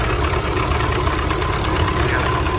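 A Ford Model A car engine idles steadily while warming up, a continuous close, even rumble with no talking over it.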